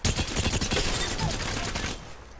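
An energy rifle, the Havoc in Apex Legends, fires a rapid stream of close, loud automatic shots for about two seconds before cutting off into quiet.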